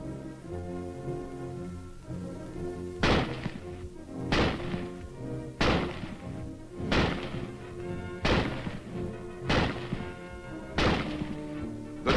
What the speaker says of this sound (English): The rifle is first demonstrated being fired from a prone position.